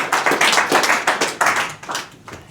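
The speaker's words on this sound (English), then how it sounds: "I think that deserves a big round of applause." Close, loud clapping from an audience in a UK setting, a dense run of claps swelling and easing in waves over a couple of seconds with no talk.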